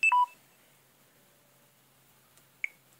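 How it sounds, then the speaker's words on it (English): A mobile phone beeping during a Spider-Man 3 game session: a sharp electronic double beep at the start, then quiet, then one short beep near the end. "Oh, sorry, it's my phone."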